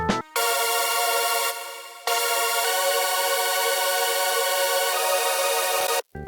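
A bright, sustained synth chord rings high and steady for several seconds, briefly dipping once, with no voices.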